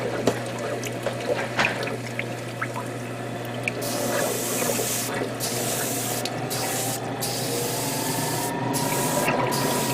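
Airbrush spraying inside a hobby spray booth during model painting, a steady close hiss of air that swells and holds after the first few seconds, running continuously under a low hum.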